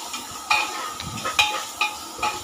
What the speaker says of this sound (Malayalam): പിന്നെ ഇതിലേക്ക് ജിഞ്ചർ ഗാർലിക് പേസ്റ്റും ഒക്കെ ഇട്ട് കൊടുത്ത് നല്ലതുപോലെ ഒന്ന് വഴറ്റി കൊടുക്കുകയാണ്.